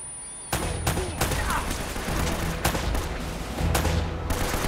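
Gunfire rattles in Uncharted: Drake's Fortune, with sharp, loud shots cracking repeatedly over a dense, continuous battle din.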